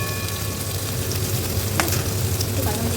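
Loud, continuous sizzle of paneer dish ingredients frying in a pan, a close, steady hiss with faint crackles throughout.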